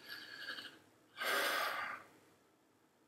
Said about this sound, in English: I want you to take a deep breath.